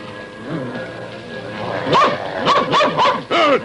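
A cartoon dog in a 1978 animated film barks and yips several times in quick succession, close and loud, after a soft whine at the start.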